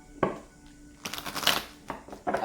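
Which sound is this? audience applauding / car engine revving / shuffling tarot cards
shuffling tarot cards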